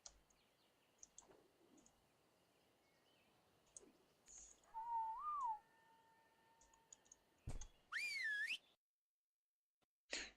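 Whistle call in the game ARK rises among soft clicks and faint game effects: a short warbling tone, then a brighter pitched sweep near the end, all fairly quiet.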